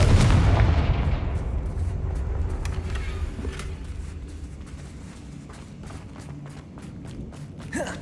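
A Confringo blasting spell explodes in the Hogwarts Legacy video game with a loud, deep boom that decays over a few seconds, followed by scattered footsteps and light impacts.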